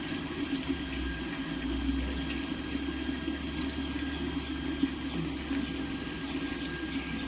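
Water rushing fast through a water purification plant, a steady low gushing roar with a constant machine hum and faint high chirps above, continuous and even from start to finish, no voices.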